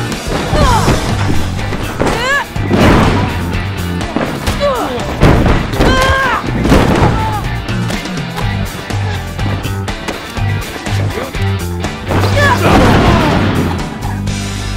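Wrestlers in a ring land a kick and bulldog slam, heavy thuds and mat impacts over crowd noise and shouting voices, loud and close throughout.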